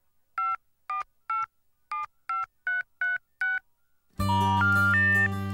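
A cell phone number is dialed, about nine crisp DTMF beeps in an even rhythm, close and clear, followed by a loud sustained burst of electronic tones as the call connects.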